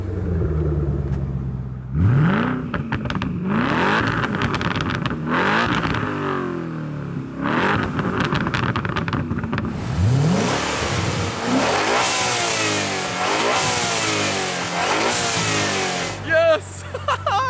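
A twin-turbo Coyote Mustang engine revs hard several times, rising and falling in pitch with a deep, throaty rumble up close.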